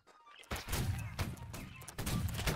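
Musket volleys crack in Holdfast: Nations at War during a Prussia versus Russia land battle, with sharp, loud bursts of overlapping gunfire rolling together after a brief quiet start.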